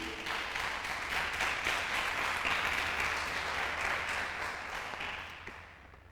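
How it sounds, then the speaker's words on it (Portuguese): A church congregation applauds, steady dense clapping filling the room at moderate level before tapering off at the end. "Você pode dar um aplauso ao Senhor aí?"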